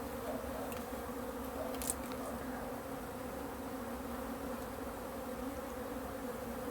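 A dense, steady hum of honeybees buzzing around an open hive, continuous and moderately close with no talking.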